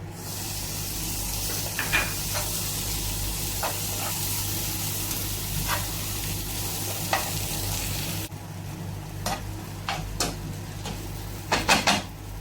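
Clam roast masala sizzling steadily in a pan as tomatoes are stirred in, a continuous frying hiss with intermittent scrapes and clinks of a spoon against the pan, louder taps near the end.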